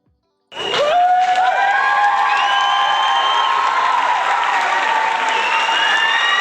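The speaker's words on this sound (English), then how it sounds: "And a huge cheer." An audience at a chess session bursts into loud, sustained cheering and applause after a brief silence, with whoops and shouts continuing steadily to the end.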